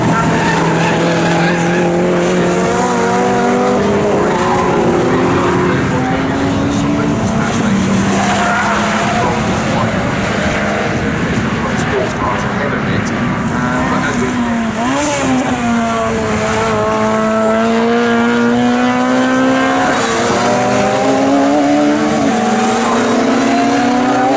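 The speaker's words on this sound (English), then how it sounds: "Another fight going on as well between Robert Forsyth with his Caterham CSR, that's number 88 car." Race cars, including a Porsche, a BMW Z4 and a Caterham CSR, battle at Snetterton circuit in an all-comers race, engines roaring loudly and continuously with rising and falling pitch as they rev through gears, with tire squeal and skidding mixed in.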